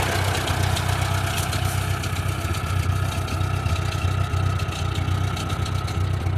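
A Ford 8N tractor engine idles nearby with a steady, low, throbbing rumble and an even mechanical beat that holds for several seconds with no one speaking.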